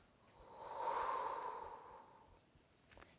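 One soft, breathy exhale, drawn out over a couple of seconds as someone lowers into a runner's lunge during a post-pregnancy stretching routine, followed by a faint short breath.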